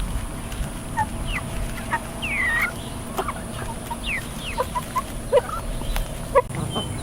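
A flock of chickens on a small farm clucking and calling in scattered short bursts, some near and sharp, others softer, over a low steady background hum.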